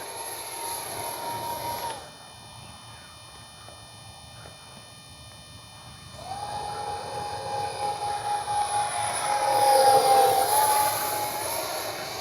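An X-Fly 40mm F-15 RC jet with an electric ducted fan whines loudly overhead, drops off briefly, then surges back with a rising, Doppler-shifting roar as it makes a close pass.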